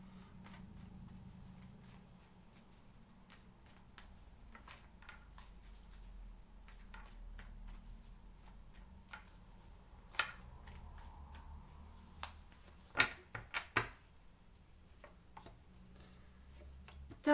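Soft shuffling and flicking of tarot cards with occasional sharper taps as cards are laid down, quiet and close, with no talking.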